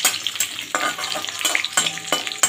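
Hilsa fish lightly frying in oil in a pan: a bright, crackling sizzle with a few stirring clicks and pan knocks, close and steady, with no speech.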